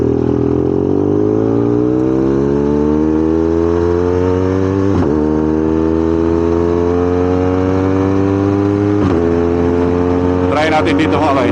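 Big bike motorcycle engine with hard starting and low power, held at high RPM: a loud, continuous whining roar with slowly climbing pitch, briefly dipping twice before a final rattling flutter, close and unaccompanied by talk.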